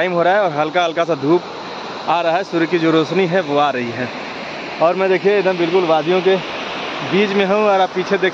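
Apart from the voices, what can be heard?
waterfall and river flowing in Himachal valley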